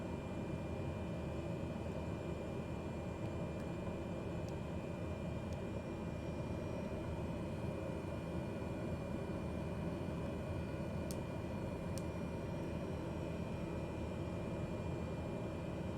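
Steady cabin hum of an airplane taxiing, a loud, uniform engine roar lasting throughout, broken only by a couple of brief faint ticks; no one speaks.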